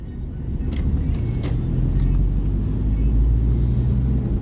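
A car driving along, heard from inside as a steady loud low engine and road rumble with a few faint clicks over it.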